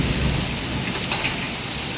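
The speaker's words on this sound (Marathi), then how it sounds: "तुम्ही बघू शकता जोराचा पाऊस आलेला आहे." Heavy rain pours down in Panvel, a dense, loud, continuous wash of noise close by with no gaps, no voices heard over it.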